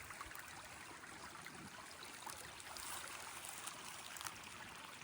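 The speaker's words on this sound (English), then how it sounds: "it's given a pathway to link up with this creek" Creek water trickling where a permaculture swale drains into it, a faint, steady babbling flow with no voices, continuous for several seconds.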